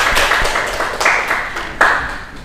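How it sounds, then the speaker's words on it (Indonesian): A class claps for a discussion group after its presentation, scattered hand clapping from a modest group of students in a room, with a few sharper individual claps standing out. "Oke, tepuk tangan buat kelompok 1"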